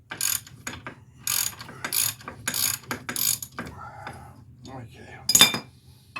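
Hand ratchet used to loosen and remove a brake caliper bracket during a wheel bearing replacement, with repeated rapid clicking bursts in a steady rhythm, close and fairly loud, plus a sharp metallic clank near the end.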